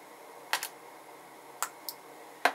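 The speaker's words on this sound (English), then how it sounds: "The axle system, it just pops out." Axle of a OneDrop Rally yo-yo popping out, heard as a handful of sharp, close little clicks spaced unevenly against a quiet background, with no speech.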